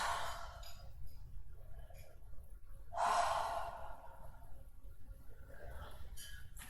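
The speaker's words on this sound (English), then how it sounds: "Take a nice big inhale. Nice full exhale." Slow deep breathing during a gentle yin yoga posture, a soft airy inhale and a fuller exhale, quiet and close.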